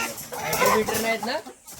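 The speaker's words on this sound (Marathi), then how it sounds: "आहेत कुठे कोंबडे" A chicken's clucking call, close and fairly loud, lasting just over a second before trailing off.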